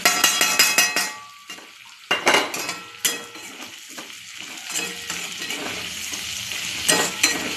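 Prawns frying in a pan with turmeric, chilli and salt being stirred, giving loud scraping and clinking of a utensil against the pan over a steady sizzle, with repeated stirring strokes.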